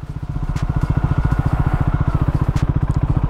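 Close, rhythmic low pulsing of a Triumph Scrambler 400x motorcycle engine at low speed on an obstacle course, steady and loud with no talk.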